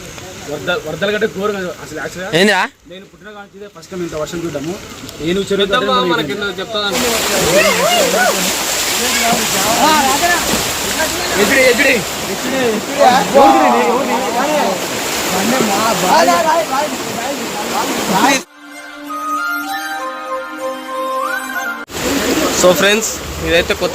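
Floodwater rushing and splashing through a street after heavy rain in Srisailam, a continuous loud wash of water heard under someone talking, with brief drops in the noise.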